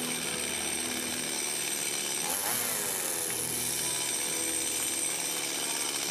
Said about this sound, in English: I'm going to start this bad boy just so you can get a few fumes.